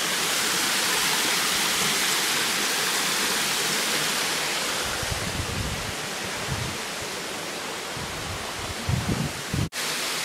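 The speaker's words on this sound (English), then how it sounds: "Look at the waterfall." Waterfall in Puerto Rico seen from a bridge: a steady, loud broadband rush of falling water fills the whole stretch without a break, with a few faint low thumps near the end and no talking.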